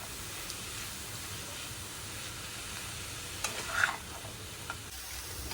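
Chicken, corn and colourful mixed vegetables being stirred in a pan, giving a soft steady sizzle with light scraping and a few clinks of the utensil.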